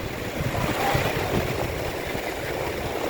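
Sea waves wash onto a beach in a steady, soft rumble of surf with wind noise across the microphone, moderately quiet and continuous, no voices heard.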